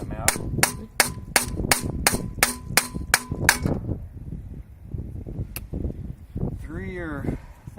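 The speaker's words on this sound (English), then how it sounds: "since I can't find my punch, I'm using a little screwdriver to drive them out" Heavy-duty rivets on an RV battery tray are driven out with a small screwdriver, giving about a dozen loud, evenly spaced metallic clanging hammer blows, then quieter handling and a person's voice at the end.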